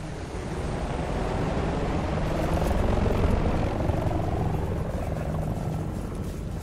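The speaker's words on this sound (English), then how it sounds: "Look out! Russian choppers." Russian military helicopters in the video game Battlefield: Bad Company 2, a steady loud rotor and engine drone that swells slightly midway and holds throughout.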